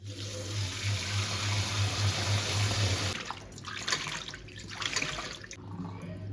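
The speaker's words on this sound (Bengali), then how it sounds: "চিংড়িটা ধুয়ে।" Prawns are washed under a running kitchen tap, a steady rush of water pouring into a sink, shifting to splashing and sloshing as they are handled close by, with no talking.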